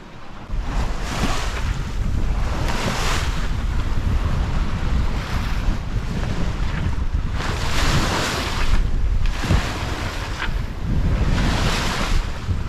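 Sailboat under a full genoa and double-reefed mainsail crossing the Pacific near the Galapagos at about five knots, with steady wind rushing across the microphone and surging waves breaking in rhythmic washes, loud and continuous throughout.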